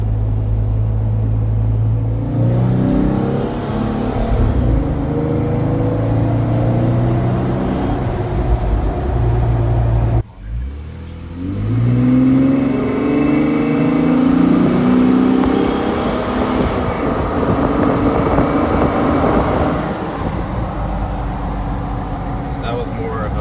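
A Jeep Wrangler with a 3.6 engine and an AFE exhaust accelerates hard, its engine note rising in a steady droning pull that stays fairly smooth and not raspy, with a short break midway and someone talking over it.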